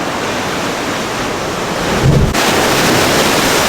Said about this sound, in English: as the water rushes in, it's going to go into this little rock cave